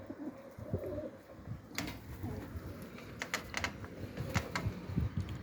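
Pigeons coo softly in low, repeated throaty calls, with a few sharp clicking and tapping sounds scattered over the top, fairly quiet and close, with no talk.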